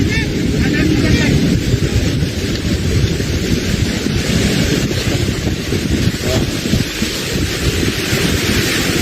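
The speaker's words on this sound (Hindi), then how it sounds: "ये देखिए गेट खुला है तो उसका पानी इधर भी आप लोगों को दिखाई पड़ेगा, तेज गति से पानी आ रहा है" Water rushes hard through an opened barrage gate on the Gomti river in Lucknow, a steady loud roar with wind buffeting the microphone throughout.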